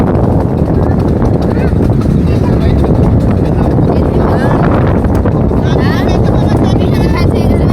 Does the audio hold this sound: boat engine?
yes